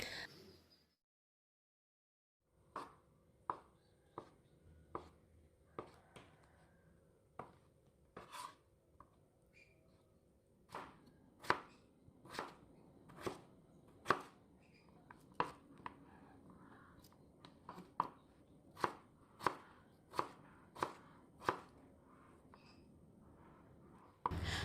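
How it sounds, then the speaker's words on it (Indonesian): A knife taps repeatedly against a cutting board while thinly slicing tofu, sharp irregular knocks that quicken into a steady rhythm, close and quiet. "Yang pertama di sini saya ada 8 buah tahu, saya potong tipis ya"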